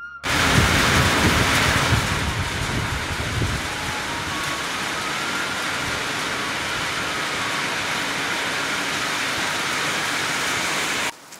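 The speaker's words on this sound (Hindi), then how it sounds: "बाहर लगी हुई है बारिश और ठंडी ठंडी हवा भी चल रही है साथ में" Steady rain falling outdoors with a cold wind in a hill setting, a dense continuous hiss at constant loudness with a brief rougher patch of gusty rumble near the start.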